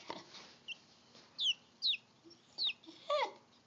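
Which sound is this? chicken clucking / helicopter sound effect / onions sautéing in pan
chicken clucking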